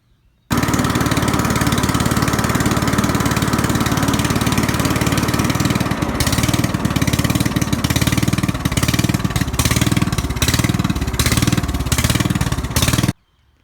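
The engine of a Toro LX460 riding mower runs loud and close during a deck belt test, a steady droning idle with a rhythmic pulsing clatter starting partway through, then stopping abruptly.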